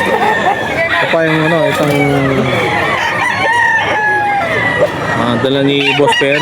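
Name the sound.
rooster crowing at a pet market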